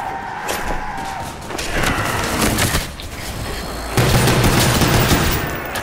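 Dense, rapid gunfire from shooting zombies in Call of Duty Black Ops Zombies, with overlapping bursts and impacts filling the whole stretch, loud and continuous with no pauses.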